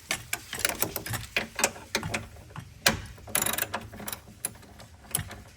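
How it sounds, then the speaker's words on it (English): A ratchet on a long extension loosens the battery hold-down bolt on a 2021+ GMC Yukon/Tahoe/Suburban/Escalade, clicking close and loud in uneven bursts of rapid pawl ticks with short pauses between strokes. "So you're going to take that bolt out"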